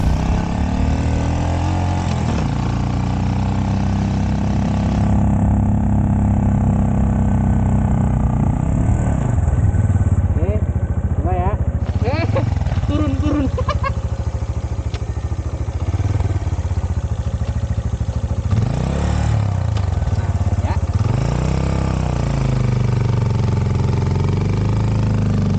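A CFMoto Papio XO-1 small motorcycle climbs a hill carrying a rider and one passenger, its engine droning steadily and close, with rising and falling revs as it labours uphill.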